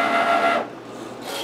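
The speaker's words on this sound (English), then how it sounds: "There's a rotary fabric blade on this Cricut." A Cricut Maker with a rotary fabric blade runs a short mechanical whir and hum as it cuts fabric, close up, cutting off abruptly partway and then briefly starting again.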